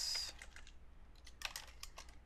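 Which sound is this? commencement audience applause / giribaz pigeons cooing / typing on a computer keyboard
typing on a computer keyboard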